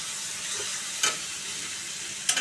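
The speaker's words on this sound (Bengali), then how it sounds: "মশলাটা কষাচ্ছি" Steady, close sizzling of something frying in a pan, broken by two quick scraping strokes of a stirring spoon.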